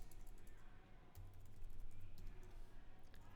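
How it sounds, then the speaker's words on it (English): Quick, light keystrokes tap on a computer keyboard in an irregular burst of clicks, close and fairly quiet, while a simple web page is being written. "Then I type, welcome to Nepal Travel Adventures."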